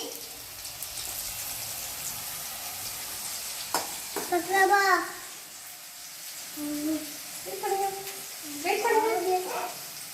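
Onions frying in a pan for Tamil kenaf leaves kadayal, a steady close sizzle running throughout, with a voice talking intermittently over it in the second half.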